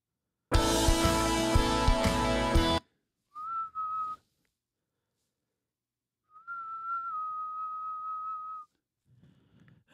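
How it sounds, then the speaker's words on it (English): A steady, low-pitched whistled tone is held for about a second and then again for over two seconds, clean and close, after a loud burst of other sound at the start. "I wonder what a octave pitched down whistle would sound like."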